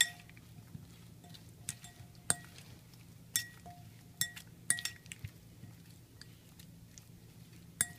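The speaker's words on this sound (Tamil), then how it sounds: "நல்லா மிக்ஸ் பண்ணிப்போம்." A spoon mixes masala for paneer tikka in a bowl, giving sparse sharp metal clinks scattered irregularly over a low steady background hum, close and clear.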